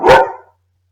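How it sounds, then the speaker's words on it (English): Dogs bark at a mail carrier in a home in a single loud, close burst of about half a second that ends abruptly and leaves silence. "You just heard my two dogs"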